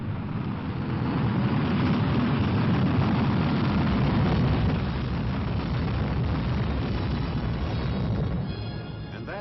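The first American Vanguard rocket attempt fails in a launch explosion, a sustained loud roaring blast that swells and holds, then fades slightly at the end, with no voices.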